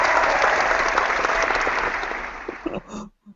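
Applause sound effect played during a podcast, a dense burst of clapping that fades over about three seconds, followed by a couple of brief knocks and quiet voices at the end.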